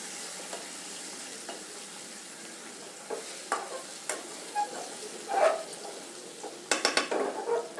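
Cut drumsticks being stirred in a frying pan for a boiled curry, with a soft steady sizzle under scattered scraping and clinking strokes of a utensil against the pan, growing busier toward the end.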